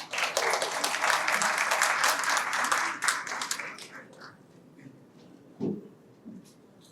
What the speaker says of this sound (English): Please give our speaker a round of applause